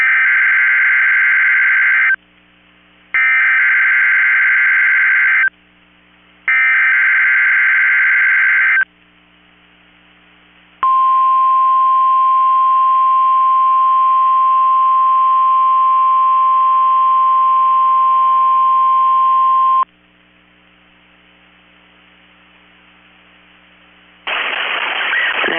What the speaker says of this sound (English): National Weather Service in Chanhassen, Minnesota has activated the warning alarm on 13 weather radio stations